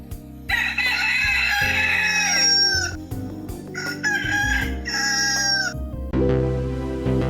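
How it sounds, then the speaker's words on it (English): A rooster crows loudly and close, several long drawn-out calls in a row layered over a steady musical backing track, with no talking. "Let's cue the rooster and get this show started."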